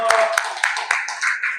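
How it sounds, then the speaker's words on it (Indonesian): A small group claps in a few quick, close, uneven hand claps alongside overlapping voices, brief and sparse rather than a full ovation. "tepuk tangan buat kita semua"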